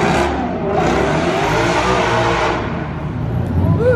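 A Ford Mustang engine revs hard as it accelerates past a busy car-spotting spot in Monaco, loud and continuous with a rising, swelling roar before fading slightly, crowd noise beneath.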